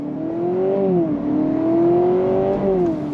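A 2025 Honda Civic Hybrid Sport Touring whirs up under full-throttle acceleration, its pitch climbing, dipping briefly at a simulated shift, then rising again. The sound is loud and close, with no voices.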